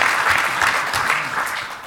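An audience at a security conference speed debate claps in a dense, steady round of applause, close and sustained throughout.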